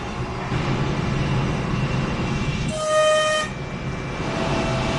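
A steady rumbling roar of a passing long-distance train bound for the Arctic mining city of Vorkuta fills the clip, with a brief high horn-like tone sounding in the middle.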